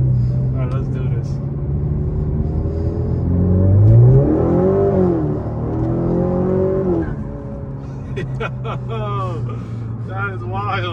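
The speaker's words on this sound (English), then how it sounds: "I was at 20, I hit the gas, I went straight to 60" A custom-tuned 2019 Honda Accord 2.0T turbo accelerates hard from 20 to 60, its engine rising in a swelling rumble inside the cabin before easing off, with people talking over it.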